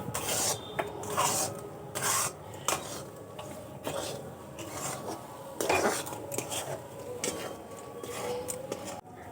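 Semolina dough gets stirred nonstop in a wok over low heat, producing close, steady scraping and rubbing with frequent sharp utensil knocks against the pan, repeating throughout.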